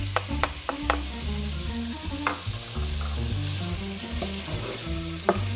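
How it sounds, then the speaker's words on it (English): Onion and garlic frying for goulash get stirred in a pan, a steady sizzle running throughout with sharp utensil scrapes and clinks against the pan at irregular intervals. "Giving it a good stir."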